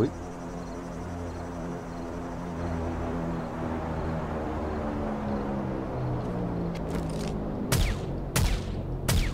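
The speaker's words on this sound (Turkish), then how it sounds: "Ulan iki mermi bulduk ya, hepsini sıkalım" Gunshots in the survival game 7 Days To Die, Undead Legacy mod: two or three sharp loud cracks near the end, following a long stretch of steady droning ambience with insect-like chirping and faint background tones.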